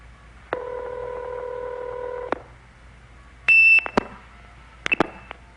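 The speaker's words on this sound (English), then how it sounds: "So that kerchink, which is music to any phone freak's heart, is the 2600 hertz being removed and then applied." Telephone line signalling from a blue box: a steady multi-tone hum, then a loud piercing 2600 hertz tone burst followed by clicking kerchink sounds, and a second brief tone with clicks, close and clear with no talk.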